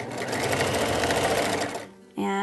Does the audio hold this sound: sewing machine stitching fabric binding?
yes